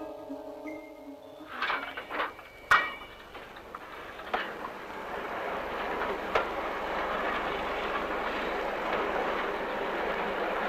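A railway flatcar carrying a crane rolls along the track, starting with a few clanks and knocks, then settling into a steady, continuous rumble of wheels on rail that builds slightly, with no talk.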